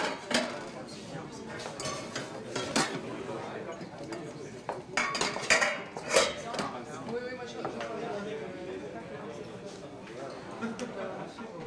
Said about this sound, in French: Les tables se sont remplies, le fond sonore est monté de quelques décibels